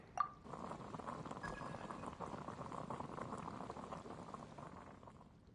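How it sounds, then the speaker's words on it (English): Water boils in a pot inside a fantasy video game, a soft, continuous bubbling and gurgling after a brief clink, faint and steady with no voices. "I'll boil some water."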